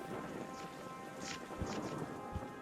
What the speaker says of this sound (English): I'll play a pair of terrifying storms.